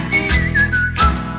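A short, clear whistled melody of a few sliding notes, close and alone, whistled while sledding downhill in winter.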